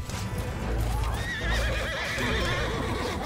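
Horse neighing with hoofbeats clopping during a Mount & Blade 2: Bannerlord battle, a whinny rising and wavering over busy, dense game noise.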